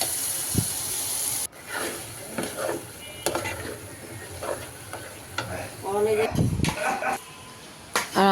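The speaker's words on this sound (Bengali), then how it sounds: "এখানে পেঁয়াজ ভেজে নিচ্ছে" Sliced onions fry in hot oil in a home kitchen, giving a steady sizzle and hiss broken by scraping stirs of a spoon in the pan. A voice talks over the cooking.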